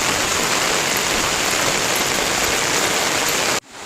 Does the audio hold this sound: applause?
no